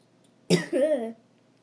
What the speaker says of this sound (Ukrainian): ти досі і кашляєш